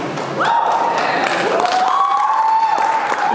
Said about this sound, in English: Those are all the filmmakers in the room applauding